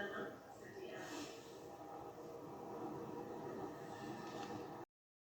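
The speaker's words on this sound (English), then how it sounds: "The next train at platform 1 is for Woolwich Arsenal via London City Airport." A train at a London station platform gives off a steady, moderately loud rumble and rail noise with a faint hiss, while a voice speaks faintly over it, before the sound cuts off abruptly.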